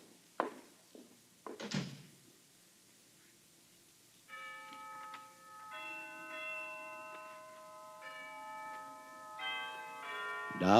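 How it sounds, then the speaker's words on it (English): Tower chimes ring out at noon from a bell tower on a college campus, a sequence of clear sustained tones that starts after some brief knocks and carries on to the end of the clip. "Down from the Harkness Tower floated the chimes of noon"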